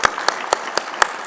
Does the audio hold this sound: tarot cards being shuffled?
no